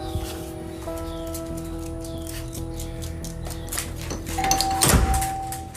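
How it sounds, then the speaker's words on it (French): A doorbell chimes with sustained ringing tones over a steady background hum, followed by a brighter chime and some rustling near the end. "la sonnette retentit alors qu'il n'y a personne devant la porte"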